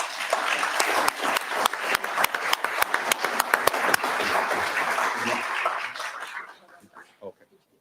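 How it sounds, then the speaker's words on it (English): A round of applause at a city council meeting in Dickinson, Texas, with dense, sustained clapping from the room that tapers off into a few last claps. "Can you please give them a round of applause?"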